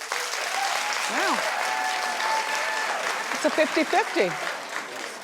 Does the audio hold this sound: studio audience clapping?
yes